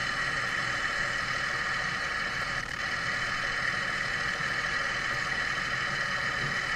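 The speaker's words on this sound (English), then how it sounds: "Here we're idling." A steady Cummins diesel engine idles continuously with a low, even rumble and a constant hum, no voices.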